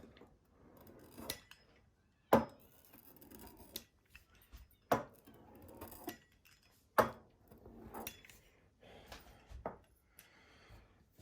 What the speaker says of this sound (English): I'm going to start cutting it into 3-inch squares using my pizza cutter